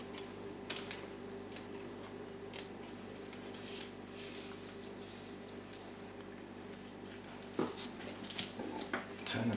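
Scissors trimming stringy bits from a large plant mount in a kitchen, with a few sparse, light snips and clicks standing out against a steady background hum.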